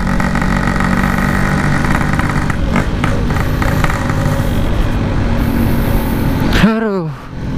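An old Yamaha RX King two-stroke motorcycle idles at night with a steady, loud, burbling engine note, ending in a rising rev; a person talks over the running engine.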